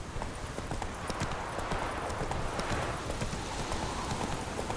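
A horse gallops in the video game The Witcher 3: Wild Hunt, with rapid, continuous hoofbeats clip-clopping in a steady rhythm over quiet background ambience.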